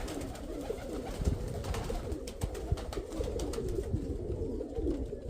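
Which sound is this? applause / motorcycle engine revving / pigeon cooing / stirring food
pigeon cooing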